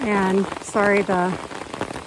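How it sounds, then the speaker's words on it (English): Heavy rain pours straight down onto an umbrella on the Appalachian Trail in the Shenandoahs on a windless day, a steady close patter running beneath a person talking. "The rain is really coming down right now."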